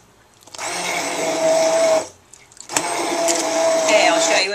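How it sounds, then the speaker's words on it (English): An immersion blender whirs loudly blending soup in two sustained bursts, separated by a short pause with a brief clunk. "take my submersible blender and blend it"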